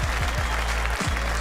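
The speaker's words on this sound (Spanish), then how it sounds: "¡Un fuerte aplauso para los dos!" Applause and cheering from a crowd at a battle rap event, dense and loud, running across the whole moment with a low rhythmic thump beneath it.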